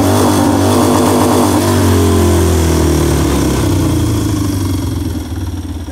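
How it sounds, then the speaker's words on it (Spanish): Harley-Davidson motorcycle engine idling close by with its loud, lumpy, uneven low rumble, steady for several seconds before easing slightly at the end. "es un sonido que hasta tiene registrado Harley Davidson como propio"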